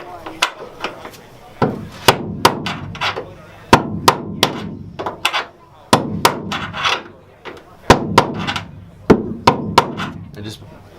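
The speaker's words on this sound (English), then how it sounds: "I like using just a real broad-headed punch and setting it back in against that metal." Steady series of sharp metal-on-metal hammer strikes as a broad-headed punch is driven against the sheet metal wall of a Mercedes Sprinter van, close and loud, in irregular bursts of two or three blows.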